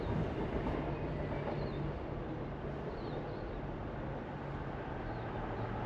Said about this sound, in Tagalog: May train. Yun guys, dumaan ang train.